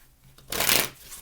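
Tarot cards get one quick riffle shuffle, a short papery burst that peaks and fades within a second against a quiet room.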